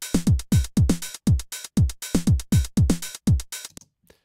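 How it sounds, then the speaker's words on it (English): A drum machine plays a beat pattern of two closed hi-hats followed by an open hi-hat, crisp and loud, with regular ticks repeating for several seconds before a short decaying tail and silence. "So we have two closed hi-hats followed by an open hi-hat"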